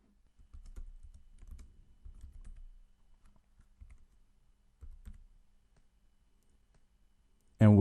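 Soft typing on a computer keyboard while naming a database in setup software, a scatter of faint close key clicks in short bursts before a sudden louder noise at the end.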